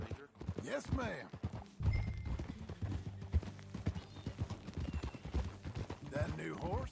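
Steady rhythmic clip-clop of a horse's hooves while riding in Red Dead Redemption 2, close and continuous through the middle stretch, with characters talking at the start and close.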